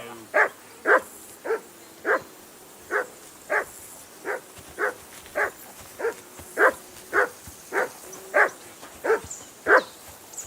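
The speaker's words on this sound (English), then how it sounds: "That dog of yours is barking like the devil." A dog in Kingdom Come: Deliverance II barks in a steady rhythm, about sixteen evenly spaced loud barks over low ambient background, with no talk.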